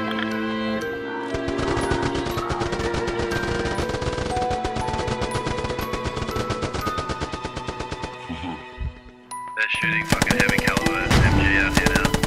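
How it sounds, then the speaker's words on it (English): Heavy caliber machine gun fire in a video game rattles in long, rapid, loud bursts, dense and continuous, briefly dropping off before another harsh burst near the end. "They're shooting fucking heavy caliber MG out here now."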